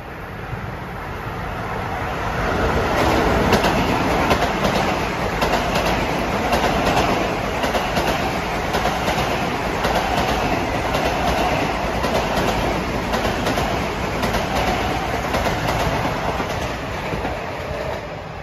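A Long Island Rail Road train rolls through the newly completed Elmont station at evening rush hour, a loud sustained roar with steady clickety-clack of wheels on rail joints that builds in the first seconds and then holds, with no talking.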